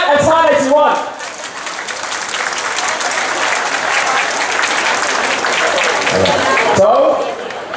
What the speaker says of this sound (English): For those who do not want our country to go bankrupt, clap as hard as you want.